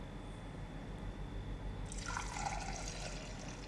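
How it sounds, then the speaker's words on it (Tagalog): Water is poured into a pot of boiled mung beans, a quiet splashing trickle that starts about halfway through over a faint low kitchen background. "lagyan natin ng tubig"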